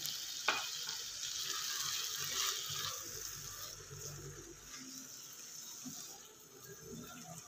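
Water splashes into a pan of potatoes and spinach cooking on the stove, bringing a soft sizzle and bubbling with faint stirring. The sound stays quiet and close throughout.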